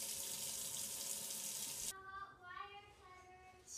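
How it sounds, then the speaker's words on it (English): Tap water pours steadily and loudly into a sink for about two seconds, then cuts off, leaving faint drips and the muffled clatter of a small styrofoam boat being tested. "get a lot of water in the sink or whatever you're using"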